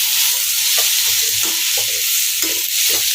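Pirandai (adamant creeper) sautéing with tamarind in a pan gives a steady, bright sizzle and frying hiss, with a few soft stirring scrapes and knocks scattered through.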